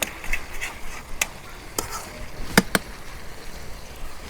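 Chicken being stirred in a pot on a clay stove: a few sharp scrapes and clinks of the utensil against the pot, spaced irregularly over a soft background hiss.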